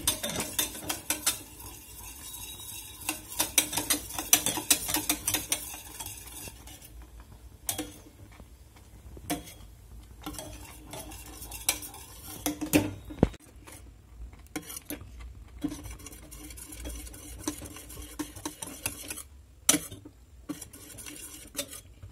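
A spoon stirs cornflour milk pudding in a pot over a low flame, scraping and clinking against the metal in an irregular, continuous rhythm with no talking.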